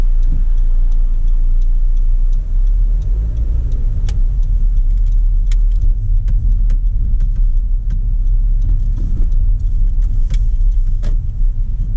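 A car drives through busy downtown Detroit traffic while making a left turn, with a steady low road rumble and engine hum throughout and faint ticking clicks, like a turn signal, scattered over the top; no talk.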